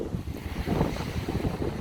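Gusty wind at a beach on the Mornington Peninsula buffets the microphone with low rumbling bursts, loud and close, with no voices.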